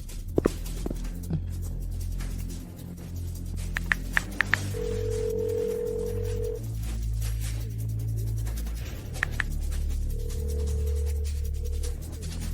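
A telephone rings on and on without being answered, with repeated electronic ring tones over a low background hum and a few sharp clicks.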